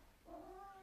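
A house cat gives a single short, quiet meow, heard close and alone in a calm room.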